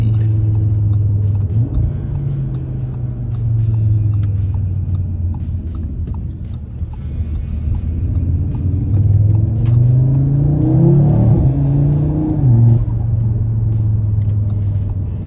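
Audi RS3 Carbon Edition (2025) engine held at high revs, bouncing off the rev limiter in a loud, steady rumbling drone with pitch swells near the end.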